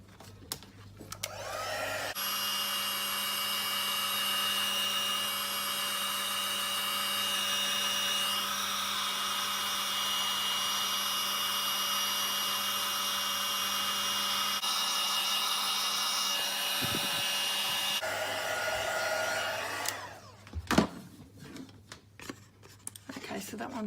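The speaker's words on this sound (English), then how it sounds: "I'm going to heat it with the heat tool" A heat tool blows hot air over ink stamped on a handmade card: a loud, steady whirring drone that runs unbroken for about sixteen seconds, then cuts off and gives way to brief clattering handling noises.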